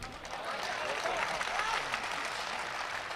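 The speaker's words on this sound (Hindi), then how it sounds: "आपने ताली बजा दी" Audience at a Hindi patriotic poetry recital claps steadily in a continuous wash of applause, moderately distant and even throughout, with crowd murmur beneath.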